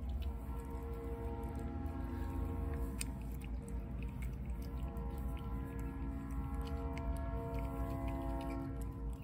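A train rumbles along the tracks, a steady low droning roar with faint clanks and squeals layered on top, continuous and moderately distant throughout.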